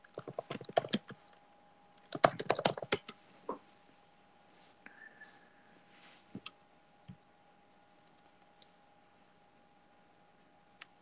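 Scattered keystrokes on a computer keyboard in a quiet room, short bursts of faint clicks with long pauses between them, plus a steady low hum underneath.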